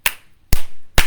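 Three sharp hand claps ring out in a steady rhythm, close and loud, standing in for missing letters during a children's sing-along of the Bingo song.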